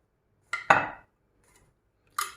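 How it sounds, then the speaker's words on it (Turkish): A spoon clinks and scrapes against cups while cake is spread into them for tiramisu, three short separate metallic knocks with quiet gaps between, close up and alone. "kekimizi şöyle bir kaşık yardımıyla şöyle dağıtıyorum"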